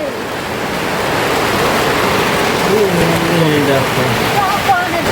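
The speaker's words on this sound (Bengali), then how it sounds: "আর এই দেখো বাইরে হচ্ছে খুব জোর বৃষ্টি" Heavy rain falls outdoors in a loud, unbroken wash of noise that fills the whole stretch, with a voice faintly audible beneath it.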